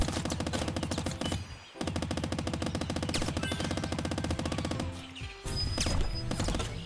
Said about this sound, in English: I'll just start shooting like this because it's faster than running